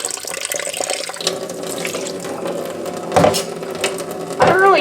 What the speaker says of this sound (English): you want the water to start to run clear